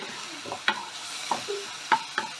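Ginger garlic paste frying in a pan, a soft continuous sizzle with several quick spatula scrapes and taps close by.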